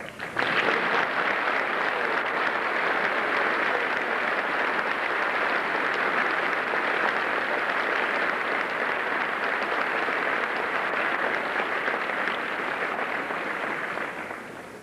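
A large audience at a 1985 commencement ceremony in Daytona Beach applauds for about fifteen seconds, a dense, even wash of clapping that holds steady and tapers slightly at the end.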